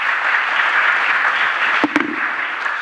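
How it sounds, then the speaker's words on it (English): Steady audience applause at the closing plenary of a conference on urban mobility, a dense, even wash of clapping from a large crowd throughout, with a couple of brief knocks near the end. "Give her a big round of applause."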